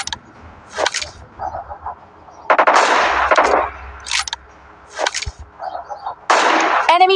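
AWM sniper rifle shots in PUBG Mobile Lite during a full-rush match, with several sharp, loud game gunshots and bursts spread irregularly over the span, mixed with other game sounds.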